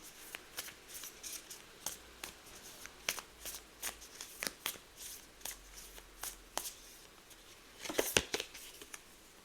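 Tarot cards are shuffled and handled close up, a quick series of crisp slaps and riffles repeating irregularly, with a denser flurry toward the end, no talking.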